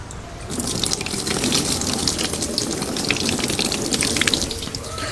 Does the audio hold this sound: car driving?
no